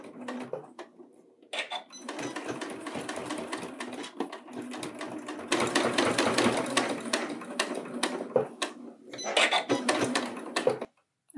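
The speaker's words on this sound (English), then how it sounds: "Now we're going to stitch the center back seam." Sewing machine stitching the center back seam of a fabric slipper: close, rapid mechanical chatter in several runs of varying length, separated by brief pauses.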